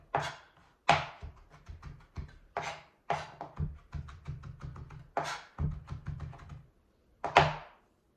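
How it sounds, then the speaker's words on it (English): A knife cross-chopping food on a cutting board, heard as a steady run of crisp, close knocks. Some chops are heavier thuds and others lighter taps, with no talking. "And then just a cross chop over the top."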